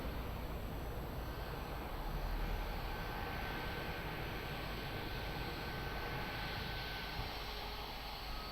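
A fixed-wing airplane on approach to runway 02 at Lisbon Airport gives a steady, continuous engine roar at moderate level, unbroken across the stretch.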